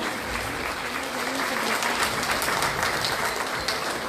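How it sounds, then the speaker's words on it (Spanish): A roomful of people applauds, dense and even clapping holding steady for several seconds. "Por favor, aplausos para nuestro decano."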